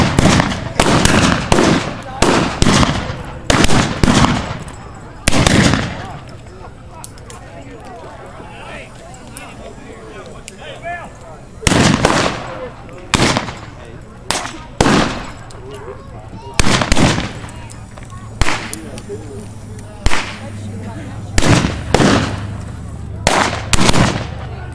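Loud sharp gunshots crack in irregular bursts and clusters during a gun fight at Spurger, Texas, close by, with shouting voices between shots.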